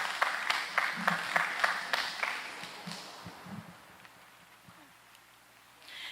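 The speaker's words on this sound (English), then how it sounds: "let's give a round of applause for our contestants" A small audience at a secondary schools spelling bee gives sparse, distinct claps for the contestants, a handful of sharp hits that thin out and fade into quiet room noise within a few seconds.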